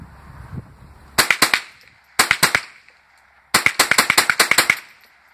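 Rifle shots from a Ruger 10/22 Takedown and a Henry AR-7, both .22 caliber, fired outdoors: a burst of four sharp cracks, a pause, three more, then a rapid string of about nine, each loud and close.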